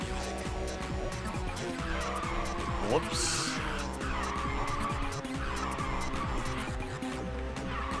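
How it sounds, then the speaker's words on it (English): Tires skid and squeal as a car drifts in the Ridge Racer 6 video game, a continuous screech over engine drone and music, with someone talking and exclaiming over it. "This car drifts quite a lot."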